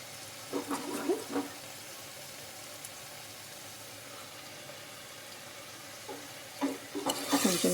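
Cabbage frying in a pan with ginger garlic paste for a cabbage and egg curry, a faint sizzle with a few soft stirring scrapes near the start and louder stirring and sizzling toward the end.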